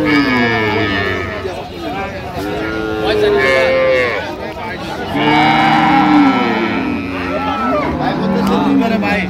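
At the Ambari cattle haat in Dinajpur, dairy cows and calves moo repeatedly and loudly close by, several long calls overlapping with people talking and a busy market crowd.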